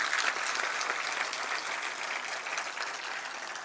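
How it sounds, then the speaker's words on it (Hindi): An audience at a public event with the state chief minister applauds in a dense, continuous round of clapping that holds steady for several seconds with no voices over it. "जोरदार तालियां बजाएं।"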